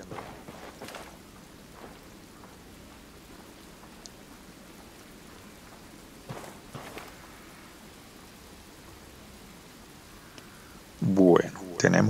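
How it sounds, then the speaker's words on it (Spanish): Rain falling in the video game Ghost Recon Wildlands, a soft, steady hiss of rainfall running through the background with scattered clicks, and a burst of louder game sound near the end. "Mire, está lloviendo, ¿eh?"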